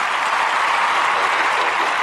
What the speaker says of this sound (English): I need you to give a round of applause for recording artist Malcolm Taylor.